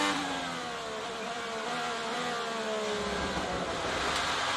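An IndyCar race car at The Thermal Club open test runs its left side over the trackside curbing, the engine note holding high then shifting and dropping as it rides the kerb, fairly distant and steady.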